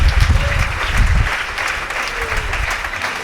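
A church congregation clapping during a worship service, loud dense applause that peaks early then thins into lighter scattered clapping with some voices mixed in.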